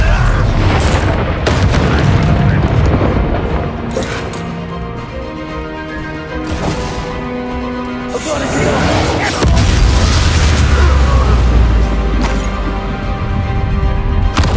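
A Confringo spell explosion in the Hogwarts Legacy video game, with a loud booming blast and crashing impacts layered over orchestral game music. Voices speak over the action.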